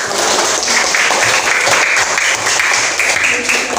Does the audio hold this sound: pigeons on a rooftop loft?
no